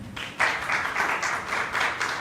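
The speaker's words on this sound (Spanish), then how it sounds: "Dale un aplauso al Señor." A church congregation applauding, with steady, moderately loud clapping that starts after a brief pause and continues to the end without any talking.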